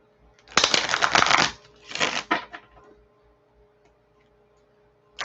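Tarot cards are shuffled by hand in two quick, close riffling bursts, the first about a second long and the second shorter, followed by near silence.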